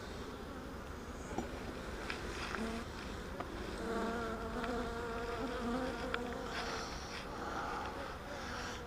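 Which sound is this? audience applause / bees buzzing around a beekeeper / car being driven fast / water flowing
bees buzzing around a beekeeper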